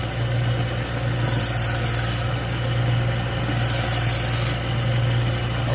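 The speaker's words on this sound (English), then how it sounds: "We're going to strop at the same angle that we sharpened at." A knife blade being stropped on a belt sander, giving a steady rubbing rasp in alternating passes over the constant hum of the running sander motor, with no talk.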